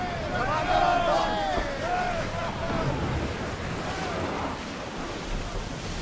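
Ocean waves wash steadily against a sailing ship in Assassin's Creed Odyssey. The surf and wind roar continuously, mixed with a faint babble of voices and a few tonal game sounds.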